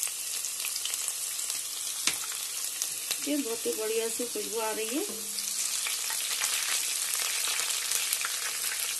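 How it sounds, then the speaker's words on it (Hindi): Finely chopped garlic sizzles steadily in hot oil in a home kitchen, a constant close frying hiss with a brief stirring scrape partway through, while someone talks over it. "लहसुन को हमें ज्यादा गोल्डन नहीं करना है, बस लाइटली ब्राउन करना है।"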